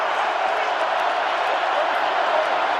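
Stadium crowd at a Seahawks home game roaring to urge on the Seahawks defense, a steady, dense wash of cheering held at constant loudness throughout.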